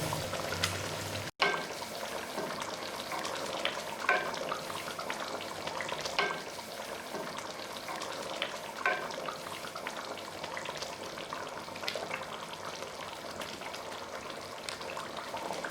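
Half-cooked fish pieces slide into a simmering curry gravy for machli ka salan, bringing a soft bubbling and stirring texture with light clinks, fairly quiet and steady throughout.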